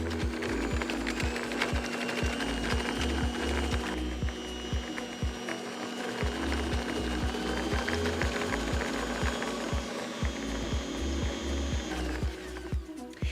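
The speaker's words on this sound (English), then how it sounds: "Now we're going to gradually turn up our speed until our butter and sugar creams together." An Ankarsrum Assistent Origin stand mixer fitted with whisks creams butter and sugar, giving a steady mechanical whir with a rapid rhythmic clicking throughout, loud and continuous without talk.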